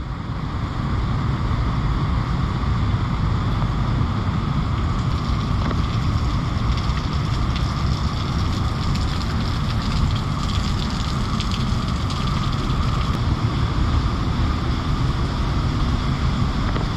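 A waterfall at Tonkawa Falls near Waco, Texas, tumbling below limestone cliffs and rock overhangs, makes a loud, steady broadband rush of falling water that roars unbroken throughout.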